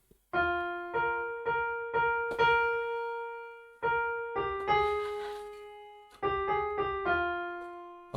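Keyboard plays the blue section of a song from Tamasha, a short rhythmic phrase of repeated sustained notes in clear groups, each struck note decaying before the next, close and alone with no talk.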